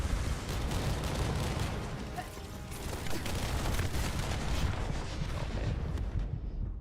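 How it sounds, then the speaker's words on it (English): A dense, loud barrage of gunfire and blasts hammers away in The First Descendant, an unbroken roar of rapid shots and impacts lasting several seconds before it cuts off. "I hate that barrage"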